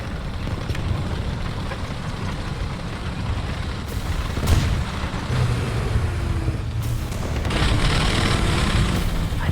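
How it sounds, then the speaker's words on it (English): Artillery barrage in War Thunder, a steady rumbling roar of distant impacts with a few sharper booms and a rising rumble toward the end, no talking. "So let's drop some arty and move."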